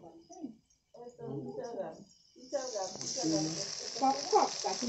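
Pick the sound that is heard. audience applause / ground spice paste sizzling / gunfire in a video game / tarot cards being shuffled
ground spice paste sizzling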